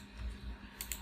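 A few quiet key clicks from a computer keyboard, close by and alone, typed in short bursts while entering financial figures into a spreadsheet.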